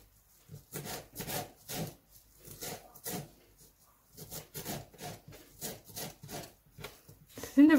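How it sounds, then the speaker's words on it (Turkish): A knife chops fresh parsley on a board, a close, rhythmic series of crisp cutting strokes in short bursts separated by brief pauses. "Şimdi maydanozlarını kesiyorum."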